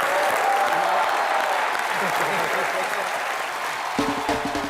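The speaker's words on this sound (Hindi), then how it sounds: "उनके लिए भी जोरदार तालियां बनती हैं।" Steady, loud applause from a comedy talk show studio audience fills the room throughout, with a faint voice surfacing briefly near the end.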